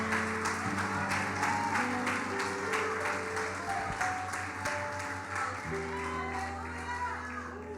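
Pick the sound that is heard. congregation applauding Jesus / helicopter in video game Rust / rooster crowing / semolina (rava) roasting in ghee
congregation applauding Jesus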